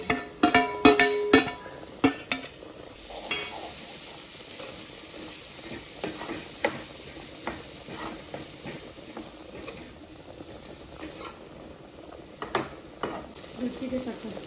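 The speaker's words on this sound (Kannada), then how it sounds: "ಸ್ವಲ್ಪ ಫ್ರೈ ಮಾಡ್ಕೊಂಡು ಕ್ಯಾಪ್ಸಿಕಮ್ ಹಾಕ್ತಾ ಇದ್ದೀನಿ. ಬೇರೆ ಫ್ರೈ ಆಗಲಿ ಆಯಿಲಲ್ಲಿ ಅಂತ" Capsicum frying in hot oil in a pasta dish, a steady sizzle with stirring clatter and scraping utensil taps throughout, louder bursts near the start.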